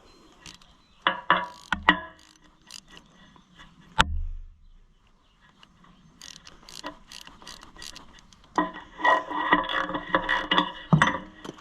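A ratchet wrench clicks in scattered bursts while a John Deere 1020 tractor is being reassembled, with short rapid runs of metallic pawl clicks broken by pauses, one sharp knock, and denser clicking near the end.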